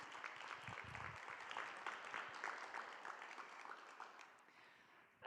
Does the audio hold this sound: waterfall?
no